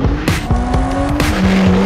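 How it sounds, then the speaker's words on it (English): A new Porsche 911 sounds loud and close, its engine tone climbing steadily while sharp tire squeals and skid bursts repeat at a quick rhythm. "This is the new Porsche 911."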